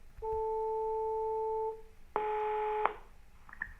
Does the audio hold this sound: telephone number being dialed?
yes